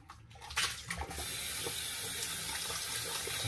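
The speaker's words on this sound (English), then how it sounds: "I've got the bowl here. I'm going to rinse this one out." Tap water runs into a shaving bowl as it is rinsed out, a brief clatter and splash at first, then a steady, close hiss of flowing water filling the bowl.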